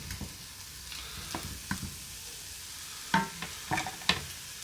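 Onions sauté in a pan beside creamed-style corn, giving a low steady sizzle punctuated by several sharp clicks and scrapes of a spatula stirring, close and without talk.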